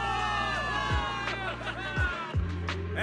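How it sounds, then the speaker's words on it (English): Game crowd of soldiers in Zenless Zone Zero cheering for victory, a dense roar of voices with whoops under a musical score and sweeping effects, steady and loud throughout. "Give it up for yourselves, soldiers! Cheer for victory!"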